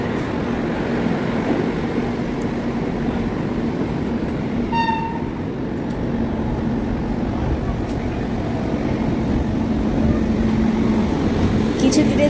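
Vande Bharat Express running out of Asansol, a steady rolling rumble heard from inside the carriage, with a brief horn-like tone near the middle.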